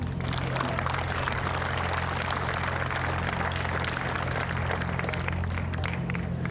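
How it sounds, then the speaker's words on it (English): A crowd applauds at a military ceremony during a 2013 Las Vegas event. The clapping is dense and continuous, a steady wash of many hands with no pauses. "So let's give them a round of applause."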